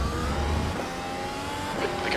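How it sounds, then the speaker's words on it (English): Race car leaving the pits in the iRacing sim at a Belgian GP round at Spa-Francorchamps, a steady engine drone with a thin high whine that rises and falls slightly, heard alone for about two seconds. "Adrian, there's a car exiting the pits"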